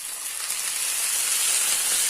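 Peeled raw shrimp frying in a pan after a little water got in, a loud, steady hissing sizzle that stays dense and bright throughout with no talking.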